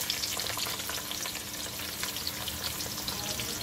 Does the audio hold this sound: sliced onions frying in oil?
yes